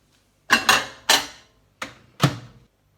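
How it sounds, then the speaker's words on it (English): A microwavable plate handled on a kitchen counter, giving five sharp clattering knocks in two quick clusters, close and crisp with short ringing tails and no talk. "Plate."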